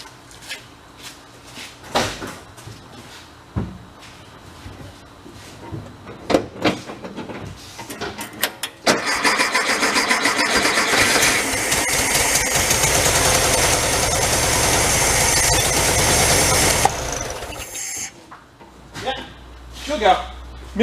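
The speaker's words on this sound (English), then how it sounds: "Give her a crank, see what it does, see if it'll fire up." A 1974 VW Thing engine cranks, then catches and settles into a loud, steady, slightly uneven idle running for several seconds before cutting off, with people talking around it before and after.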